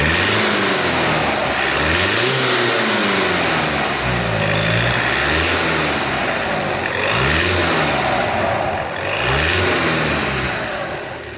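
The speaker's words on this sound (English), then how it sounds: "Now we're just going to give it 5 revs for you." A 2019 VW Passat 2.0 TDI SE DSG diesel estate revved repeatedly from idle, with about five rising-and-falling rev sweeps heard close up in the engine bay, loud and steady without talk.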